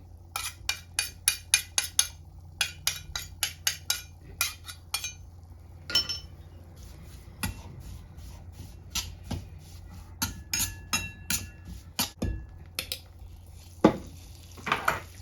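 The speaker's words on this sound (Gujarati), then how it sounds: "એમાં થોડું ઘી મેં હજી એડ કર્યું ને બદામી કલર થાય ને ત્યાં સુધી શેકવાનો લોટને" A spoon stirs and scrapes wheat flour roasting in ghee in a pan for sukhdi, a Gujarati jaggery sweet, with quick runs of sharp metal clinks and taps broken by brief pauses, close and fairly loud, with no talking.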